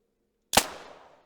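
A single sharp rifle shot fired at an arctic fox in theHunter Classic rings out close and loud, then trails off in a short fading echo over quiet surroundings.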